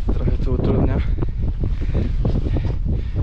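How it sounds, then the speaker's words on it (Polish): Strong wind on the mountain trail up Kriváň, 2495 m, buffets the microphone in a constant, gusty roar, with a voice speaking underneath it. "Tylko ten wiatr trochę tu utrudnia."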